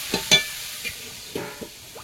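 Fresh river prawns frying in a wok (kadai), a short, faint sizzle with a few quick scraping stirs and soft clinks, close by and without speech.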